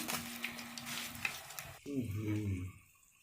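Red chilies and white cumin crackle and sizzle in hot oil for a tadka, a bright frying hiss for under two seconds, followed by a short burst of voice.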